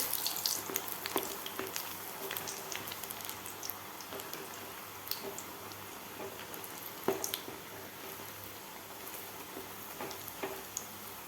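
A second batch of masala peanuts fries in hot oil, giving a soft, continuous hiss scattered with faint pops and crackles, fairly quiet and with no voices.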